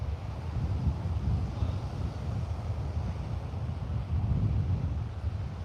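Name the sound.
wind on a beach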